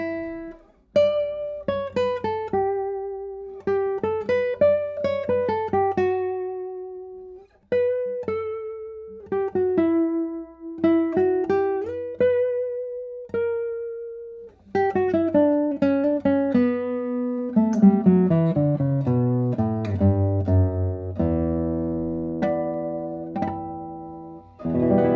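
Acoustic guitar played softly, single sustained melodic notes and gentle phrases ringing out cleanly and close, building to low resonant chords near the end, with no voices.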